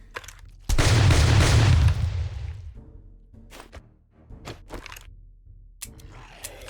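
A long loud burst of automatic gunfire in the zombie survival game 7 Days to Die, shooting cheap ammo during an underground horde night, followed by scattered single shots and thuds.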